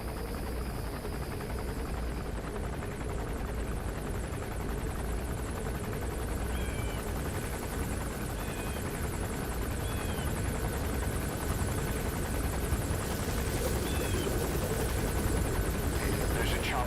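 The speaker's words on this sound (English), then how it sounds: "There's a chopper landing." A helicopter lands in the video game Metal Gear Solid V, its rotor drone steady and continuous. It holds through the whole stretch over a constant background hum, with faint birdlike chirps now and then.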